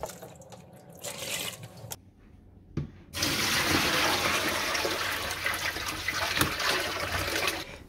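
Water rushes and splashes steadily as the water in an indoor hydroponic strawberry reservoir is changed. A short burst of running water comes first, then a pause, and then a louder sustained pour fills the reservoir close by.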